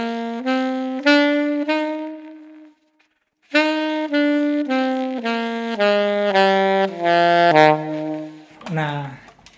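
A saxophone plays a stepwise major scale of sustained reedy notes, pausing briefly, then running through the series again before trailing off.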